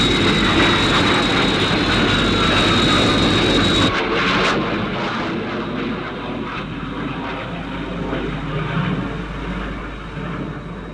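Sky 1 interceptor aircraft from the 1980 UFO TV series flying: a loud, steady jet roar that shifts and eases slightly partway through, continuing without any voices.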